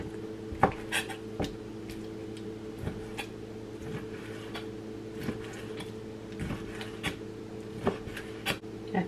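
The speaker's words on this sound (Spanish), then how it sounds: "Aquí ya terminando de picar el muslo de pollo." A knife chops a deboned chicken thigh into thin strips on a board, a run of sharp, irregular taps and clicks over a steady low kitchen hum.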